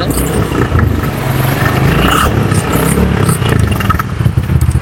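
A used motorcycle with 12,754 km on it revs loudly and close up, its engine a dense, continuous roar with rising throttle pulls.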